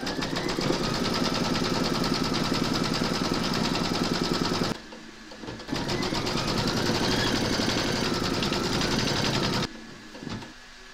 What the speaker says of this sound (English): Pop your hoop into your machine and stitch round number three